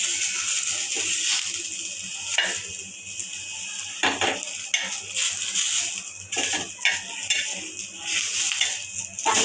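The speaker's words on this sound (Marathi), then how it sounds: "आता कांदा पण तेलात तळून भाजून घेऊया।" Onion frying in oil in a pan crackles and sizzles steadily up close, broken by frequent clinks and scrapes of a utensil stirring against the pan.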